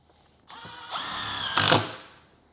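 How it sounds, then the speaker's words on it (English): A power drill whirs up, revs steadily, then surges louder before winding down, one short close burst drilling starter holes in a speaker template on a Harley Street Glide. "we're going to drill a couple starter holes in our template here"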